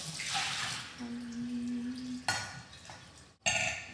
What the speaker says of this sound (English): And now we're gonna pour it.